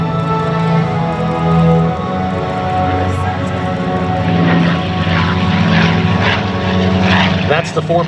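A P-51 Mustang named Quicksilver makes a fast low-altitude pass at an air show, its piston engine a loud, steady propeller drone that swells and fades slightly over the stretch, with an announcer talking over it.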